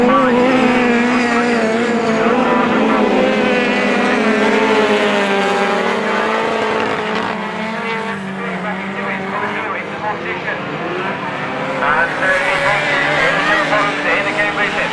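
Autograss racing cars roar around a dirt track at St Neots, engines loud and continuous with rising and falling revs as they pass, under a race commentator's voice.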